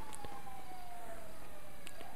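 A police car siren in GTA V wails faintly in the distance, one steady tone sliding slowly downward across a couple of seconds over a low background hum.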